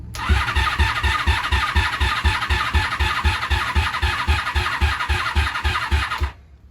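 A 1987 Honda Super Magna VF700C motorcycle engine cranks on the starter without firing, a loud, close, rapid rhythmic chugging that runs steadily for about six seconds before stopping abruptly.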